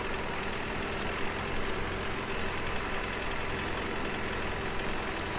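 A tractor in Farming Simulator 17 drives across a freshly ploughed field, its engine a steady, even drone that rumbles without pause and without talk.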